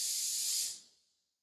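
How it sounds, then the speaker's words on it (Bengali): Marinated chicken hits a hot dry kadai with no oil, giving a loud, close hiss that holds steady for a moment, then fades quickly to quiet. "এবার ২-৩ মিনিট চিকেনটা একটু এইভাবে ভেজে নেব।"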